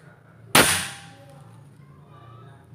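A single sharp crack of a Bocap Predator 500cc PCP air rifle shot, about 1000 fps, close and loud, with a short fading tail and quiet background afterward.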